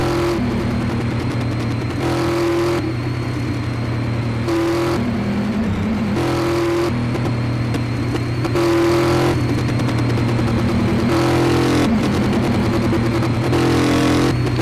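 Car engine in Car Mechanic Simulator 2018 roaring loud and steady while driving and drifting at high speed, revs dropping and climbing again through several gear shifts.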